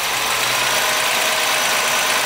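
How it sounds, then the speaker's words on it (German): A Ford Sierra XR4i V6 engine idles steadily and loudly up close after a valve adjustment, a smooth, even hum with no other sounds. "Also der Motor hört sich an wie neuer."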